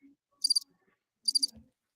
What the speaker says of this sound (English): there's like crickets chirping